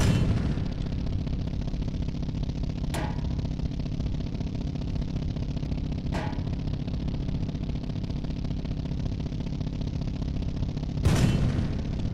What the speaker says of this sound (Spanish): No me entran los tiros